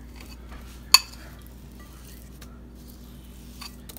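A fork clinks once, sharp and close, against a mixing bowl while scooping creamed butter and sugar for homemade banana bread; otherwise only a quiet room hum.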